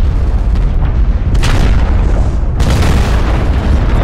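Airstrike explosions in the MechWarrior Online video game rumble as a dense, loud, continuous barrage of deep booms, with sharper blasts bursting in around the middle and again toward the end, no speech over them.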